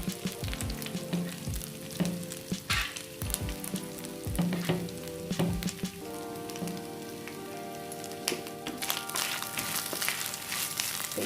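Grated coconut, dried red chillies and curry leaves sautéing in a hot pan, a steady close sizzle and crackle with intermittent scraping and stirring of the spoon, browning the coconut.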